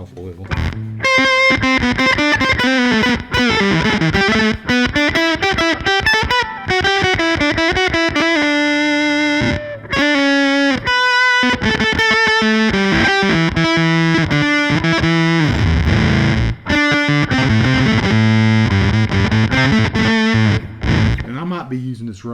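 Electric guitar played through a North Carolina-built effects pedal, distorted with a slightly glitchy character: loud bursts of notes and bending, wavering lines with brief dropouts between phrases, played alone up close.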